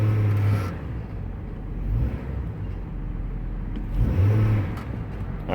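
A 2002–2009 GMC Envoy engine with a replaced ignition coil revs under load, droning steadily and swelling louder twice without stumbling, recorded close to the vehicle.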